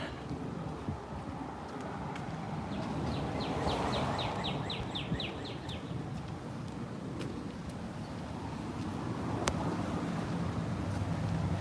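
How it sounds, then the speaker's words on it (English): A songbird on a New York City street in the Bronx gives a quick trilling run of repeated chirps over steady traffic rumble and wind, moderately near and clear above the city din. "That's a nice sounding bird."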